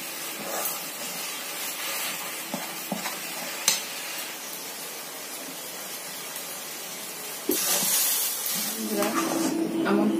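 A pan of pineapple kesari halwa, with cardamom powder just added, is stirred steadily, giving a continuous scraping, sizzling hiss close by that grows louder and busier in the final seconds.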